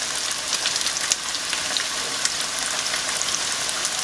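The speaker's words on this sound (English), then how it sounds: "I'm going to be frying them." Wedge-shaped slices of corn tortilla sizzle steadily in hot oil, a dense, even crackle with small pops scattered throughout.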